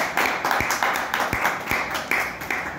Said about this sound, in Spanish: Un aplauso, por favor, para Arturo.